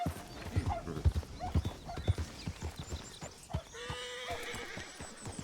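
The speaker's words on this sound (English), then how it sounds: "Need to hitch up my horse." A horse in a video game clip-clops along with close, steady hoof beats, then lets out a loud, drawn-out whinny near the end.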